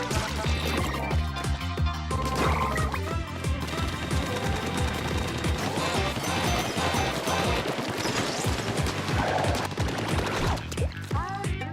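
Rapid ink-gun fire from Splatoon, the Nintendo squid-shooter game, crackles in dense bursts over busy game music and splashing liquid effects, loud and continuous throughout.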